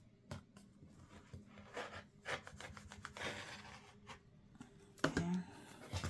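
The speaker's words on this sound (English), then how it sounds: "we're going to trim off all of our excess." Scissors or a cutter trimming excess quilted fabric along a ruler while making a mug rug: soft, close rubbing and rasping cuts in short irregular strokes, faint and intermittent.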